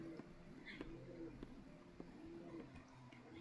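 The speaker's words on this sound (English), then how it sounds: "So he started cooing louder." A pet pigeon cooing in a room, soft repeated low coos with a few faint clicks, quiet and close, no talk over it.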